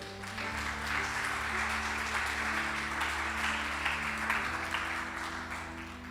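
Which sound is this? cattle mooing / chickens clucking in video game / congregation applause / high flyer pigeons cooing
congregation applause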